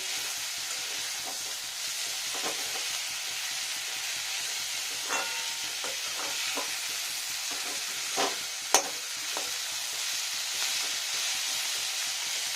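Fenugreek greens stir-fry in a pan for a vegetarian dish with a steady, even sizzle, broken by a few sharp spatula scrapes and clicks, close up and without speech.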